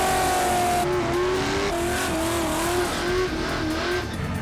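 Drag race cars, including a 1974 Plymouth Duster with a 500 cubic inch big block Mopar V8, roar loudly and continuously with rising engine pitch as they launch and accelerate down the strip.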